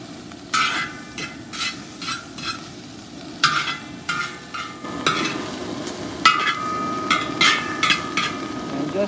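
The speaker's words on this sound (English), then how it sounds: "I'm going to put in about a teaspoon of sesame oil. Give that a quick stir" Fried rice stirred quickly with a splash of sesame oil in a cowboy wok, a spatula scraping and clanking against the metal in rhythmic bursts over a steady sizzle.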